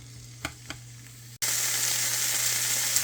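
Frozen vegetables hit a hot pan and burst into a loud, steady sizzle after a faint opening with a couple of light clicks, frying continuously without any talk.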